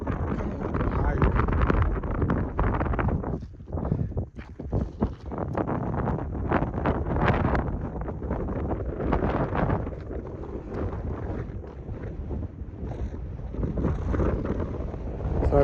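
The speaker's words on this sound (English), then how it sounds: "Sorry about the wind." Heavy, continuous wind buffeting a microphone on a mountain near Las Vegas, a loud rumbling roar with gusty surges throughout and no clear voices.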